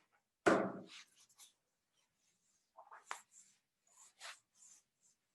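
Pen scratching on paper while homework parameters are noted, with a brief firm stroke followed by scattered light, quiet scribbles and pauses, close and soft.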